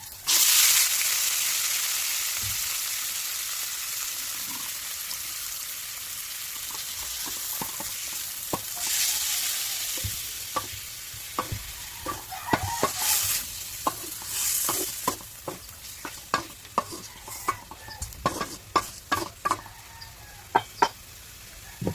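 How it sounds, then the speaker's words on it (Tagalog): Chicken pieces frying and being stirred in a pot for Filipino tinolang manok, a steady sizzle overlaid with scraping utensil strokes that grow more frequent and sharper toward the end, no talk. "alright, then let's add chicken."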